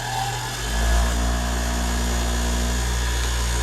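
A power tool grinds the tip off a screw driven through a 1x6 board, a steady loud whine with a low droning body that swells briefly near the start and holds constant, no talking.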